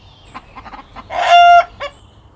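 Hens cluck in a quiet coop, several short soft clucks followed by one louder drawn-out squawk and a final cluck, close and alone.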